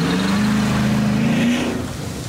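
A 2018 Dodge Charger police car launches hard on dirt, its engine roaring loud and close with a rising pitch as it accelerates away, then easing off over about two seconds.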